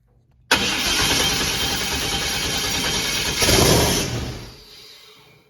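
A Pontiac Trans Am engine makes its first start on brake cleaner. It catches abruptly and roars loud and close for about three seconds, briefly surges, then runs down and fades out.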